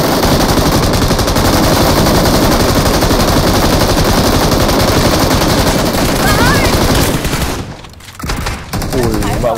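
Rapid automatic gunfire in a competitive shooter video game rattles loudly and continuously for several seconds, then cuts out briefly before resuming, with a player's excited voice talking over it.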